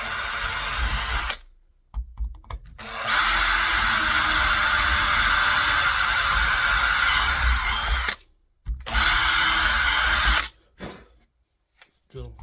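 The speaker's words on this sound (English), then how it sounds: "Then with another drill bit, it's about a 5mm drill bit this." A power drill with a 5 mm bit bores holes for a door handle, whining loud and close in two long sustained runs broken by short pauses.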